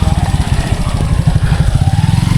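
A motorcycle engine idles close by at a farm resort, throbbing loudly and steadily with slight rises and dips as the bike is parked.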